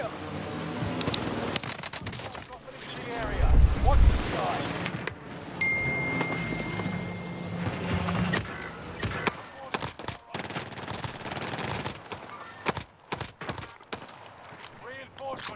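Gunfire in a Warzone match on Rebirth Island, with bursts of shots and sharp cracks scattered through the action while a player talks over it.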